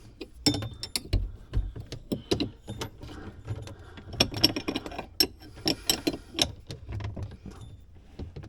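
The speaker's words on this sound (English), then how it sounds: "You want to snug it up with a wrench." Wrench snugging a plastic fitting on an under-sink water filtration system, with irregular close clicks, ratchety scrapes and small metallic knocks in bursts, no talking.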